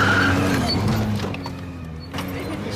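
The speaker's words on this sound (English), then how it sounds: "The car is coming." A car drives toward the listener on a road in Papua New Guinea, its engine and tyre noise loud and steady before easing slightly, with brief sharp scraping sounds near the end and no talk.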